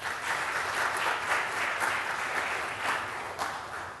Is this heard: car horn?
no